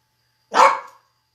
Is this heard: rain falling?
no